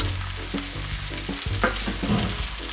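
Fried rice with Thai basil and eggs is stirred in a hot pan, a steady loud sizzle broken by repeated scraping and clanking strokes of the spatula, with no talking.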